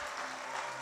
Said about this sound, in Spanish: Alguien aplauda a Dios más fuerte